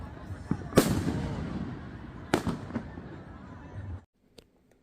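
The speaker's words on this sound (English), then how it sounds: "We watched fireworks over the lake during 4th of July." Fireworks burst over a lake on the Fourth of July: a couple of sharp booms with crackling and a rumbling wash between them, fairly distant, fading to near silence at the end.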